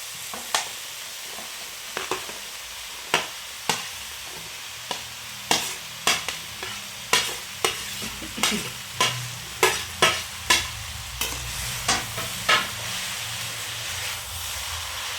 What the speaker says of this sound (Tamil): ஓரளவுக்கு நல்லா வதங்கிட்டு அது கூட நம்ம வெட்டி வச்சு சுரக்காய் சேர்த்துட்டு நல்லா கிண்டி எடுக்க வேண்டியதுதான்.